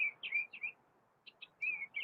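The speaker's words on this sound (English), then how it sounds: "Pam, I know your birds are going to have mine going soon" Pet birds chirping close by indoors, quick bright tweets in two short bursts separated by a brief pause, clear and unaccompanied by talk.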